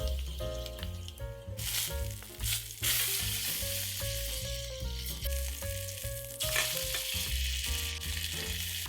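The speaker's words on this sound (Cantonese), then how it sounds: "中火燒熱隻鑊，加些少油，再擺個羊架入去。 我哋將羊架嘅每一面煎到金黃" A rack of lamb sears in a little oil in a wok heated over medium heat, giving a steady, loud sizzle and crackle throughout, with background music playing underneath.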